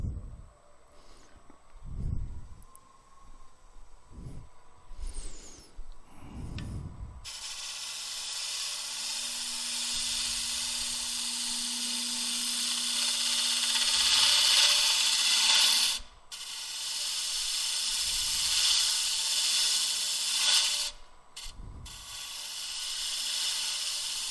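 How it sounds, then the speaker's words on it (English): A scraping tool shears across a turning wooden stave bowl on a lathe, giving a steady hissing rasp that lasts about seventeen seconds. Before it, brief knocks and handling sounds are heard, and short pauses interrupt the scrape, close by and without talking. "A little bit of shear scraping."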